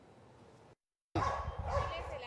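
A rescue dog from a canine search-and-rescue unit barks and whimpers after a brief gap, with a person talking over the sounds.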